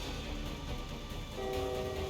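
A train passes in the Limbus Company video game, a rumbling roll of wheels on track with a sustained horn tone sounding partway through, fairly loud and alone without speech.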